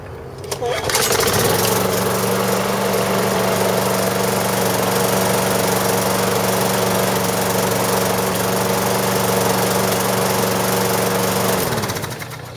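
A small engine with its air filter removed starts and runs at a steady, loud, close drone for about eleven seconds before cutting out.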